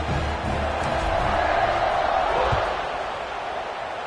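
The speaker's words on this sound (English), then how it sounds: "this crowd is feeling themselves after that last drive" Stadium crowd in the College Football 25 video game roars steadily through a kickoff, a broad sustained cheer that swells slightly in the middle and eases toward the end, with faint commentary underneath.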